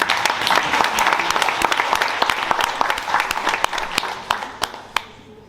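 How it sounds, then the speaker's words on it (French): Audience applause at a sports club season launch: steady, dense clapping from a crowd that fades out over several seconds, with a few individual claps standing out at the end. "donc on peut l'applaudir s'il vous plaît"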